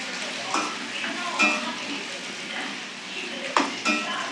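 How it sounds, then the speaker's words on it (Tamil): Cut tapioca root tossed with curry leaves in a pan for Tirunelveli poriyal, with repeated scraping stirs and a soft sizzle underneath, close, with a voice talking over it. "கட் பண்ணி வச்ச கிழங்கு போட்டுக்கலாம். நல்லா கிண்டி விட்டுக்கலாம்."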